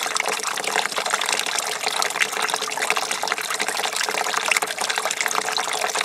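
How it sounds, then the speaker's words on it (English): Clear water gushes steadily through a car radiator during a coolant flush, a loud, continuous hiss and splash close by with no pauses. "You need to keep flushing until it's clear coming out."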